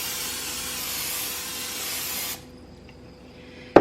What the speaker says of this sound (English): I'm going to spray my pan with some cooking spray